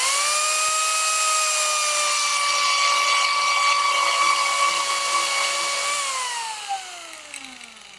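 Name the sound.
Arbortech TURBOShaft power carving tool cutting wood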